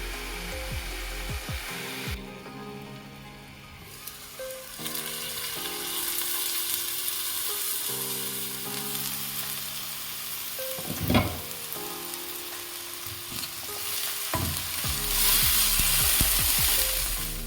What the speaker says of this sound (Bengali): ভেজে নেব কিছুক্ষণ হতে দেবো